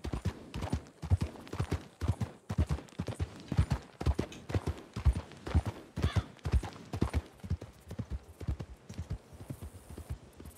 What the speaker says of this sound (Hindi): ये क्या घोड़ा गाड़ी कहां से पीछे आ रही मेरे इतनी तेजी तेजी?